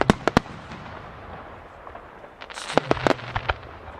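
Aizu fireworks by Kanno Enka at a 2019 display, sharp bursts and crackling pops at a distance, a few early cracks then a rapid cluster of explosions over a rumbling background.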